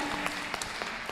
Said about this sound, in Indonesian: berikan tepuk tangan ibu-ibu sekalian